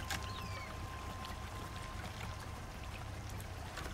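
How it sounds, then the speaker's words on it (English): A water pump runs in the survival game Icarus, giving a steady, even rush like flowing water that holds for the whole stretch with no voices. "I will need this water pump in place."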